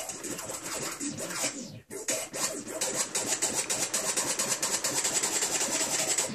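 Rapid back-and-forth scratches cut on a Pioneer CDJ-2000 deck driving Serato Scratch software, a dense, steady stream of raspy record-scratch strokes with a brief dropout near the start, loud and alone.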